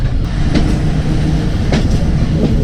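Ghouri Express passenger train running on rails near Sheikhupura Junction in Pakistan, a loud, steady rumble with rhythmic wheel clacks, close by, with no talk.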